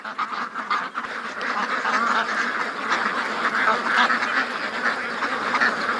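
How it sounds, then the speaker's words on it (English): Ducks quack continuously in a small flock, a busy overlapping chorus heard fairly close outdoors with no other sounds standing out. "Alright, ducks, let's go to the water."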